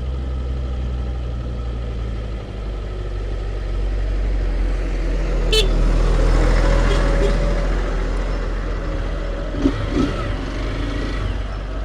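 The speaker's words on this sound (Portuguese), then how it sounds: "Vou esperar esse trator passar." A new farm tractor passes along a rural dirt road, its engine a steady low rumble that swells as it draws near and then fades, with no talk over it.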